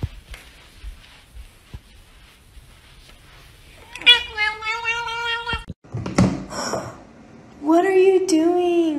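A house cat gives two long, drawn-out, loud meows close by, separated by a brief bump and a person's voice, after several seconds of quiet room noise.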